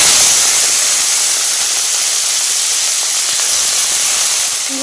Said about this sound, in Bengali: চিংড়িগুলো এখন আমি ভেজে নেব।